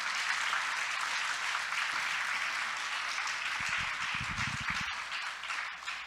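A church congregation claps in praise of Jesus Christ during a Spanish-language sermon, a dense, steady wash of applause running throughout, with some lower rumbling thumps toward the end.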